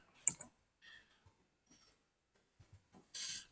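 Sparse, quiet computer clicks and a short burst of keyboard typing near the end, isolated taps with silence between them in a still room.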